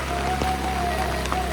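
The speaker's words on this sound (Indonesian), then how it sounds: "Itu hujan lebat, luar biasa lebatnya." Heavy rain pours down on a slippery hill road where a Mitsubishi Triton pickup struggles to climb, a dense steady hiss of drops over a low engine hum, with no talk.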